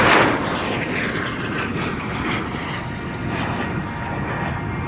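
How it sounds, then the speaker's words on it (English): A display aircraft flies over the Royal International Air Tattoo, its steady loud engine roar filling the air alone and easing slightly as it passes. "I think it's my favourite display aircraft."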